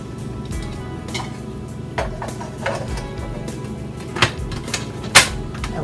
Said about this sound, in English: let's make sure the blender is on properly